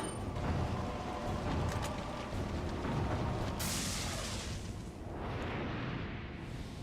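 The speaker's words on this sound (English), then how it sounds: "this rocket launcher will automatically finish Sadler" A rocket launcher fires at Saddler during the final boss battle in Resident Evil 4, giving a loud, sustained roaring blast with a dense rumble and a sharp burst partway through, then a trailing sweep as the noise fades.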